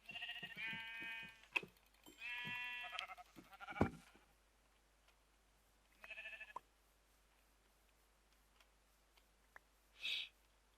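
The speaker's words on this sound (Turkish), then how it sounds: "Koyun ne kadar çok var lan burada." Sheep in Minecraft bleat in several separate calls, one after another with quiet gaps between them, as if from a flock nearby.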